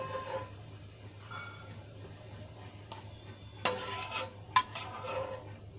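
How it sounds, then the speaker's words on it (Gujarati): Garlic sizzles softly in a kadai as it fries until lightly reddened, with a few sharp scraping clicks of a spoon stirring near the end. "લસણને આપણે થોડુંક લાલ થાય ત્યાં સુધી સાંતળી લેવાનું છે"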